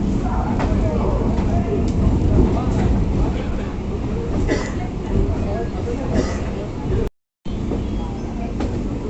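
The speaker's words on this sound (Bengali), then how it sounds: "স্থলপথে ট্রেনে করে বাড়ি ফিরছি ব্যারাকপুর হয়ে" A passenger train rolls toward home by way of Barrackpore, giving a steady, loud rumble and clatter with a murmur of crowd chatter throughout. The sound cuts out briefly near the end, then resumes.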